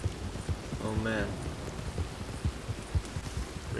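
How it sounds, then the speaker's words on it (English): Rain in the video game Red Dead Redemption 2, a steady broadband hiss of falling water with soft thumps. A voice breaks in briefly near the start. "It's fucking raining and it's loud."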